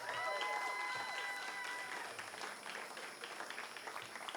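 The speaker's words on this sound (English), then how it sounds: "Give yourself a round of applause" Crowd applause and cheering fill a large room at an election-night primary victory speech, loud at first and tapering slightly, with faint voices and whistles mixed in.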